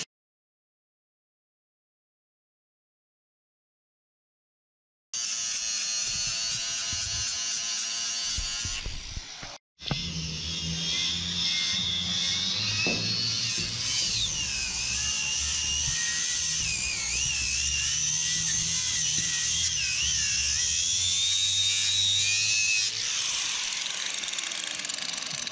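After about five seconds of silence, a welder buzzes steadily while tacking a clamp bar onto a shipping container roof, with a short break partway through and then a long continuous crackling hum heard from close by.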